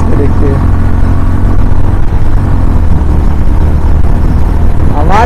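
A KTM Duke 390 motorcycle on a road ride drones loudly and steadily close by under a strong low rumble of wind and engine noise, rising in pitch sharply right at the end as it pulls hard.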